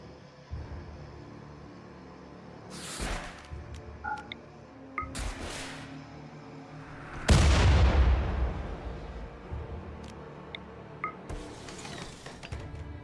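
Mortars firing in RimWorld, a Frostpunk-themed Frostwardens colony, with several sharp booming shots spaced a few seconds apart, one heavy deep blast in the middle, over low ambient game music and small ticking interface blips.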